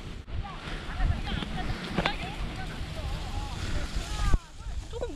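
Wind blowing over a Jeju hillside covered in silver grass in autumn, a steady rushing roar buffeting the microphone, with voices talking over it.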